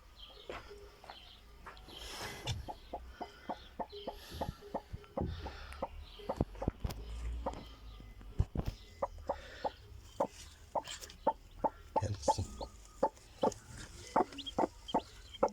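Newly hatched chicks in an incubator on hatching day give sharp, irregular peeps and cheeps, close and fairly loud, coming in quick clusters with short pauses and faint shuffling between them.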